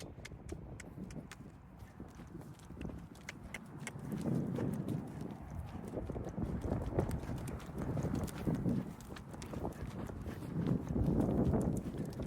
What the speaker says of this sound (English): She has all the makings of a good lesson horse.